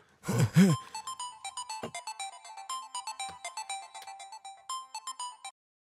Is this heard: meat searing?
no